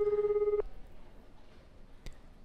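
Electronic phone ring tone from a video game, a steady held beep lasting about half a second before cutting off, followed by quiet room tone and one brief faint click.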